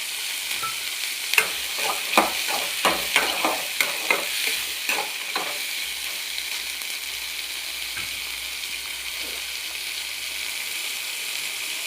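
Sundal with drumstick leaves being sautéed in a pan: a quick run of scraping stir strokes under a steady sizzle, then the pan settles into a quieter hiss, with no talking.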